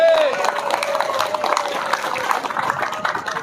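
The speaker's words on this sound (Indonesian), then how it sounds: "Tepuk tangan." A crowd at a school gathering of Yadika students claps in a busy, uneven patter, opening under a sustained voice-like tone, with crowd noise and vocal sounds mixed in throughout.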